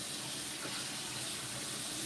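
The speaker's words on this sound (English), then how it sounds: "Rinse the sink." Tap water runs steadily into a sink during rinsing, a constant broadband hiss that stays close and even for the whole stretch, with no voices over it.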